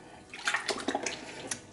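Seitan dough made by the washed-flour method is massaged in a bowl of water, with close, irregular sloshing and splashing squelches.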